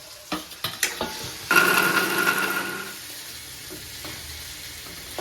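Raw mango pieces frying in a pan: a few quick clinks, then a sudden loud sizzle that settles into a softer, steady frying hiss.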